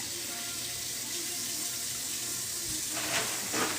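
Running tap water pours steadily as a tie-dyed hoodie is rinsed in a sink, a constant close splashing rush that thickens slightly toward the end.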